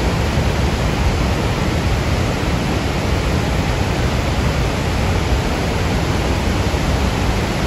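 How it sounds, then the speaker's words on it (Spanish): Rushing water of the Texolo waterfall in Xico, Veracruz: a dense, steady, loud roar with no pauses, close by and unbroken throughout. "Qué fuerte se escucha la corriente"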